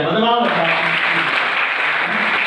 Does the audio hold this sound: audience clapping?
yes